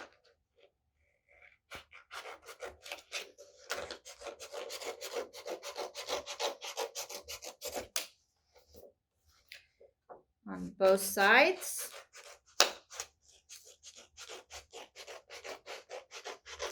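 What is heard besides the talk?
small scissors cutting paper along lines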